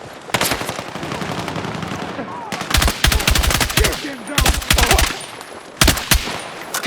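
Suppressive gunfire in Battlefield 6, close and loud machine-gun bursts in rapid rattling volleys separated by short pauses, with a few sustained streams of shots.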